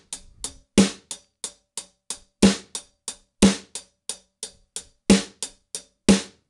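A close drum kit beat with steady hi-hat eighth notes and louder snare hits landing on the backbeats, the crisp, even pattern repeating for several bars with no talking.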